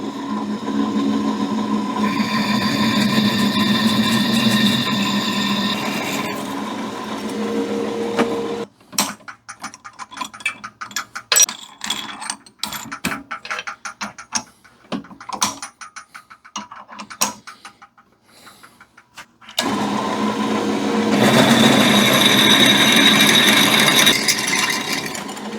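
A drill bit bores out wheel lug holes during a 6-to-5 lug swap, with a steady grinding whir, then a stretch of choppy ratcheting clicks, then the drill whirring again, no talking.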